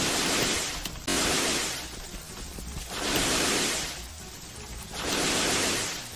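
A waterfall in the Roblox game Eternal Echo gives a broad, rushing water roar that swells and fades in long waves as the view moves, with a sharp cut partway through and no speech.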